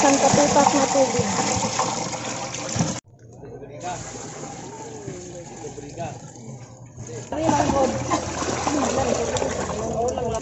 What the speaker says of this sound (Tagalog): Lagyan natin ng isang katutak na tubig.